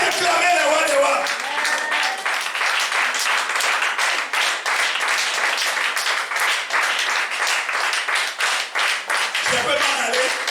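A church congregation applauds and cheers loudly in acclaim, dense sustained clapping with shouts throughout, briefly dipping near the end.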